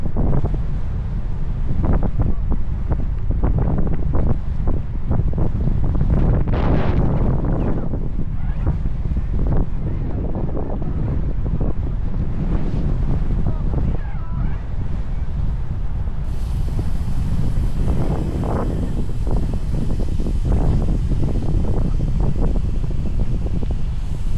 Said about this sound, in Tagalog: Isang hangin.